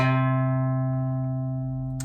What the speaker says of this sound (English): we're going to play an A bass